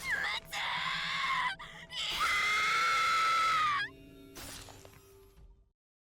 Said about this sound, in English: He vomited blood and continued his chilling scream.